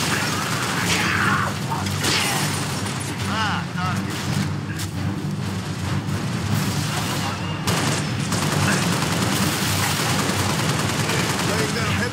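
Dense gunfire and explosions from the Halo: Reach video game, sustained bursts of automatic fire and booms under shouted in-game voice lines, loud and continuous.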